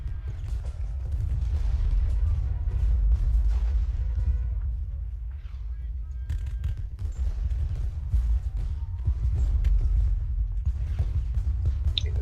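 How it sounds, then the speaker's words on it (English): Artillery fire in the Civil War strategy game Ultimate General: Gettysburg, heard as a dense, continuous low rumble of distant cannon booms layered with battle noise, steady and loud throughout, with no talking. "I'm getting tore up by this artillery."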